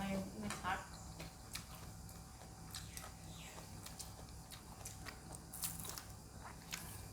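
Crunchy bites into fried croaker fish sausage served with broccoli and hot steamed rice, a few crisp crackling bites spread through the stretch, close and fairly quiet over faint background hum.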